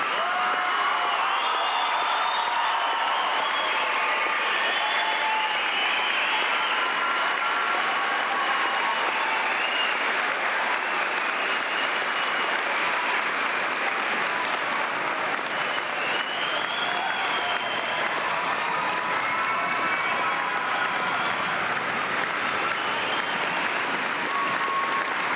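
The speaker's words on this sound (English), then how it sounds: "let's all join in a really big round of applause for the class of '98." Audience at a 1998 high school graduation ceremony breaks into long, sustained applause, a dense wall of clapping holding steady and loud throughout, with a few faint cheers and whoops mixed in.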